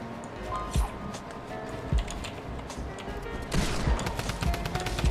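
Bursts of video-game gunfire aimed at the player in a scrim lobby match, sharp repeated shots against a busy game mix, growing denser and louder in the final seconds.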